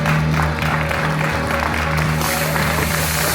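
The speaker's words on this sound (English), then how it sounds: "Audience members, a round of applause for your category winner" A competition audience applauds a category winner, with clapping and crowd noise spread under a loud steady hum of music or PA sound filling the hall.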